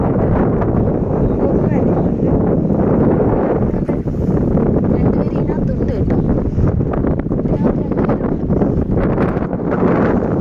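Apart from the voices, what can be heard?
strong wind blowing on microphone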